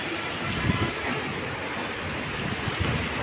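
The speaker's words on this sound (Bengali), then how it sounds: "প্রচুর স্রোত প্রচুর ঢেউ ঘোলাপানি" Churning water of the Teesta river, strong current and waves on muddy water, a steady broadband rush with wind buffeting the microphone, continuous and fairly close with no voices.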